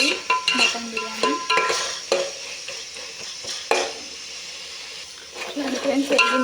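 Mutton biryani ingredients frying in a pot, with a steady sizzle and a spoon stirring and scraping in uneven bursts, some louder clanks standing out close by.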